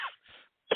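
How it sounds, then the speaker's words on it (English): A weak, hoarse man clears his throat and coughs in short, close bursts, with a brief pause before a final sharper cough. "This is what happens when I try to talk very much. I start coughing."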